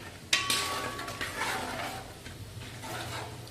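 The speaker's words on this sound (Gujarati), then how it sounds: "હવે ડાળિયા, તલ અને વરિયાળીને થોડી વાર સાતળવા દઈશું" Roasted chana dal, sesame seeds and fennel seeds sautéing in a pan for naylon poha chevdo: a sharp metallic clink of a spoon at the start, then scraping, stirring rustles and a faint sizzle.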